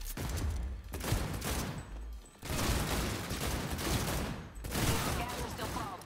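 Rapid bursts of gunfire from the video game Cyberpunk 2077 fill the scene, loud and dense with brief pauses between volleys and a voice talking over parts of it.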